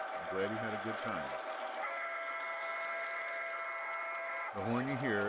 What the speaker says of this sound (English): The horn you hear is the horn in the sound unit on the engine